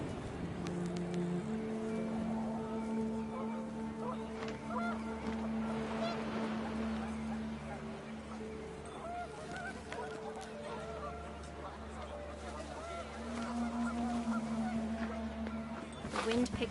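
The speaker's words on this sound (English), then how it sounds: "The wind picked up, and panicked geese appeared and quickly went." Panicked geese honk in the video game What Remains of Edith Finch, a cluster of nasal calls over a sustained low tonal drone and wind-like background.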